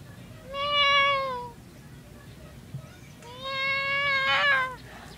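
A pet cat gives two drawn-out meows a couple of seconds apart, fairly close and clear over a quiet, faintly hissy room.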